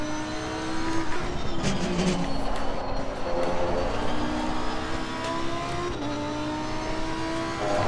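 A Lamborghini Huracán Evo GT3 race car accelerating around Laguna Seca in Assetto Corsa Competizione, its engine note climbing through rising pitch sweeps with gear changes, loud and continuous without any talk.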